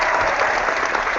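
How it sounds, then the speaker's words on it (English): Steady applause from an audience, dense and even throughout, with many hands clapping together at close range and no break. "you deserve a round of applause"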